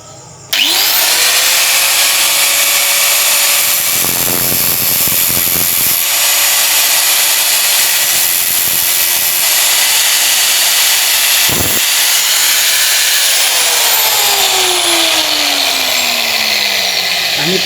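A power grinder steadily grinding the side of a drill bit's tip, a continuous loud whine with the pitch shifting slightly as the metal is pressed against the wheel, running nearly unbroken for the whole stretch.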